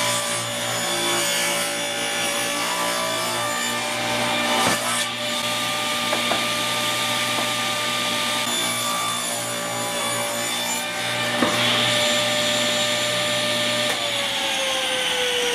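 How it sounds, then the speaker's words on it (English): Scrap wood being cut into a triangle shape, held in place with wedges, with a steady machine whine and continuous rasping saw noise throughout, loud and close, punctuated by a few sharp clicks. "So I need to cut my triangle to shape."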